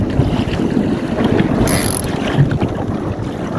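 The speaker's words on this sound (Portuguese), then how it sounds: "Tem bastante ondulação, a previsão está de acordo, o vento está aumentando." Strong wind buffets the microphone aboard a small one-design sailboat at sea near an island, a loud continuous roar with wave and hull noise underneath and no voices.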